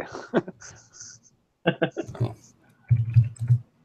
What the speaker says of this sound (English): My typing is atrocious at the moment